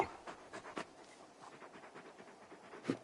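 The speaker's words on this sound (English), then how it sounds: "You're just a big puppy, aren't you? A very big puppy." Torgal, a very large dog in Final Fantasy XVI, pants quietly in quick, uneven breaths, soft and close, with a few sharper puffs toward the end.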